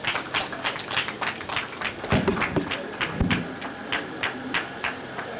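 Audience applause at a public gathering for a speaker: dense, steady clapping from many hands, moderately near, with a few louder claps and no talk over it.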